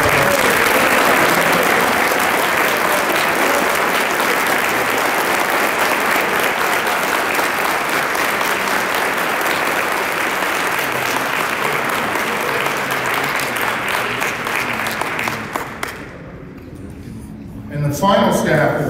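Sustained audience applause at a youth academy awards banquet, steady, loud clapping from a large crowd lasting well over ten seconds before tapering off, with a few voices underneath.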